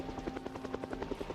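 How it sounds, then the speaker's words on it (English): A helicopter passes low overhead in the video game Cataclysm DDA, its rotor beating in a fast, steady thumping pulse that sounds loud and close. "There's a helicopter really low directly over my head."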